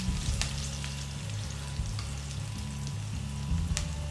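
Chopped ginger frying in a pan makes a soft, steady sizzle with occasional sharp pops and crackles, heard close and alone at a low level.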